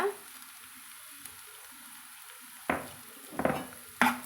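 Onion stir-fry stirred in a pan after turmeric and rock salt go in: a low, steady sizzle runs throughout, broken by three sharp scraping clatters of the spoon against the pan near the end.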